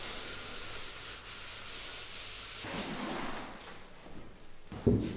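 PVC floor planks being rubbed into place, a steady close scraping friction that brightens near the end and finishes with a soft knock.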